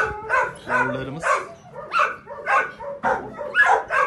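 Weimaraner puppies bark in quick, high yapping bursts, roughly eight close, loud yips in an uneven run with short whimpering tones between them.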